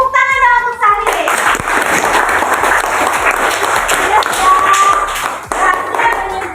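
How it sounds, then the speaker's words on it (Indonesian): Classroom of children giving a round of applause for a student named Sahril, a dense burst of many small hands clapping steadily for several seconds, with a brief teacher's voice at the start and kids' chatter mixed in. "Tepuk tangan dong untuk Sahril."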